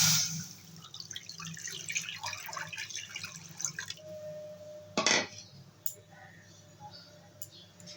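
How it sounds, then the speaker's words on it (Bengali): Water is poured into a kadai set on the stove for cooking, a short watery splash and trickle standing out loudly about five seconds in, amid quieter kitchen drips and clinks. "কড়া বসিয়ে দিয়েছি দিয়ে দেবো জল"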